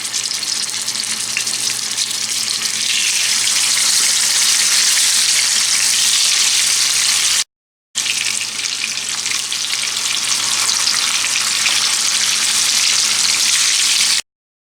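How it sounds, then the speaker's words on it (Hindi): Fish pieces frying in hot oil in a pan for a masala fish curry, a steady loud dense sizzle running continuously with two brief dropouts and no talk. "इनको फ्राई कर लेते हैं दोनों साइड से।"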